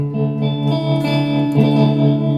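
Electric guitar played through an effects unit set to a clean tone blended with phaser, sustained chords ringing with a swirling, shimmering modulation, close and fairly loud, with no talking.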